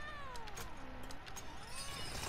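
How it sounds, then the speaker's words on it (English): A cat meows inside a Call of Duty match, a few rising and falling tonal cries heard over steady game noise and background ambience, moderately loud and fairly close. "You hear that cat?"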